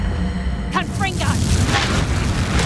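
Explosive Confringo spell cast in Hogwarts Legacy: a loud, deep boom bursts out, then rumbles on under a dense wash of game noise, with a voice speaking briefly.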